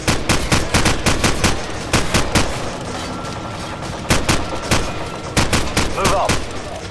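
Rapid bursts of automatic gunfire in Call of Duty 4: Modern Warfare, loud sharp cracks in clustered volleys with short pauses between, under faint game ambience.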